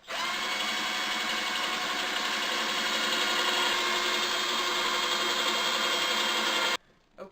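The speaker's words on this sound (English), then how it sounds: "drill those 2 holes out with drill bits" Steady high-pitched whine of a power drill boring holes through a metal strap, running continuously for several seconds before stopping abruptly.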